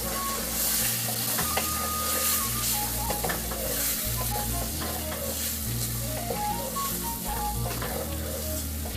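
Cumin seeds and turmeric go into a hot pan for chicken soup, a steady close sizzle of frying with light stirring scrapes throughout, no voices.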